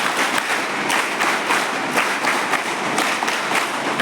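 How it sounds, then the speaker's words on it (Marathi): An audience at a school gathering claps loudly and continuously, a dense, even wash of many hands that holds its level throughout. "जोरानं टाळ्या वाजवा"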